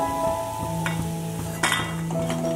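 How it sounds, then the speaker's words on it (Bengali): Lentil fritters (dal bora) being lifted out after deep frying in hot oil, with a steady close sizzle and stirring, plus a few light clinks of a utensil against the pan. "দেখুন বড়াগুলো আমি লাল লাল করে ভেজে নিলাম, এবার একটা জায়গায় তুলে নিচ্ছি।"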